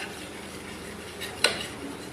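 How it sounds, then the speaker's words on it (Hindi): A spoon stirs potatoes and eggs frying in oil in a pan for an aloo anday curry, giving a soft continuous scraping hum with one sharp metallic clink against the pan midway; no one speaks. "चम्मच चलाते जाएंगे हम ज़ोर से इस तरह ताकि लगे नहीं अंडे"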